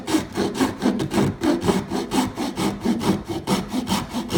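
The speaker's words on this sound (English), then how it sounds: "keep the hacksaw as straight as I can up against the lock ring, and that's where I make my cut." A hand hacksaw cuts straight through a fishing rod reel seat up against the lock ring, with rhythmic back-and-forth rasping strokes, close and steady, about two strokes per second.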